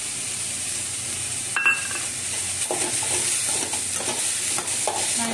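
Green chilies sauté in a hot pan for an egg pepper fry, giving a steady close sizzle with occasional stirring scrapes and light clinks of a utensil against the pan.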